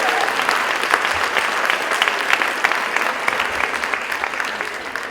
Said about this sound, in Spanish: Así que fuerte el aplauso